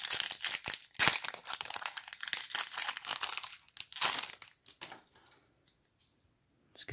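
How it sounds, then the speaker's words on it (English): The foil wrapper of a Magic: The Gathering Vraska Golgari booster pack being torn open, with close, loud crinkling and ripping in quick bursts that trail off into a few soft rustles before going quiet. "Let's get into this Vraska Golgari booster pack."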